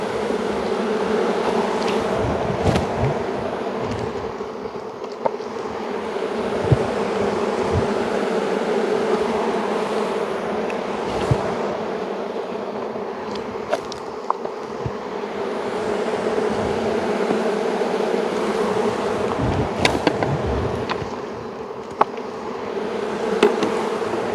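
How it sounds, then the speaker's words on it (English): Dense, steady buzzing of a honeybee colony as bees are shaken off hive frames during a swarm-prevention inspection, a continuous close drone with occasional thumps and knocks. "The reason I'm shaking all these bees down like this is I don't have to worry about hunting for the"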